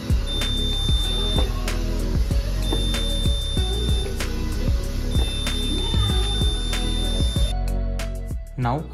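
Buzzer beeping while boot sensor wiring on a scooter is tested, with a loud, steady electronic tone pulsing in repeated bursts and sharp clicks, close and continuous before cutting off near the end.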